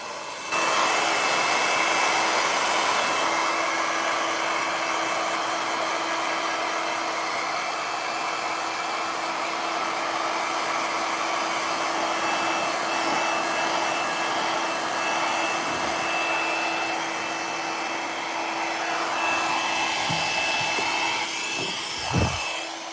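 A steady, loud stream of blown air runs over epoxy resin to clear moisture marks, a continuous hairdryer-like whoosh with a faint steady hum, ending in a brief bump.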